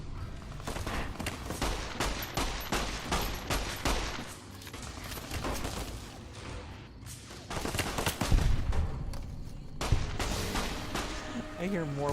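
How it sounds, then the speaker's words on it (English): Dense bursts of gunfire in Fallout New Vegas, rapid loud volleys of shots running throughout with a heavier cluster toward the end, with a voice briefly audible. "I hear more bullets."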